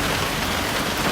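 Heavy rain pours steadily and loudly near a nipa hut in the Philippines, a dense unbroken hiss with no talk.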